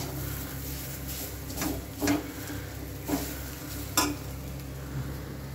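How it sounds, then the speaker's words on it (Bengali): Pea filling for kachuri being stirred in a pan over a low flame, with a soft steady sizzle and a few distinct scraping strokes of the spoon against the pan at irregular intervals. "এটা দিয়ে ভালো করে নেড়ে ছেড়ে পুরটা তৈরি করতে হবে।"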